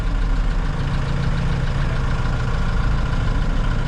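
Vauxhall Cavalier petrol engine running after being damaged by thieves, a steady close rumbling idle with a low throbbing hum and no clear rev rises, loud and continuous.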